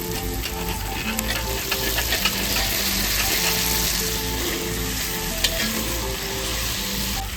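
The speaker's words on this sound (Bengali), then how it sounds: "মশলা কষানো হয়ে গেছে, এবার আলুটা দিয়ে আরো খুব ভালো করে কষিয়ে নেব।" Potatoes fry and get stirred into a spice masala in a pan for a Bengali katla fish curry, a dense steady sizzle broken by scraping and stirring strokes, close and continuous throughout.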